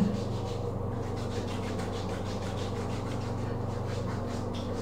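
Skin is scrubbed with a body scrub in a steady, continuous rubbing hiss close by. The sound stays at an even level throughout, with no voices.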